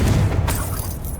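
Confringo blasting spell in Hogwarts Legacy, a loud booming explosion with a crackling burst that decays over about a second, heard alone.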